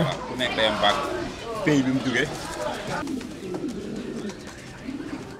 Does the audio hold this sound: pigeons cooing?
yes